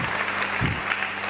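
A church congregation claps and cheers in one brief, dense burst of applause that fills the room, heard close with no clear speech over it.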